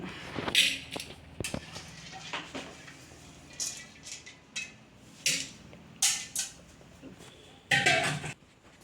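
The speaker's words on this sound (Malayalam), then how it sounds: "ഇത് കുക്കറിലേക്ക് പരിപ്പിടുന്നു" Lentils go into a pressure cooker for Kerala sambar amid a series of close metallic clinks and knocks from pots and utensils, with irregular bursts of rattling separated by quieter kitchen ambience.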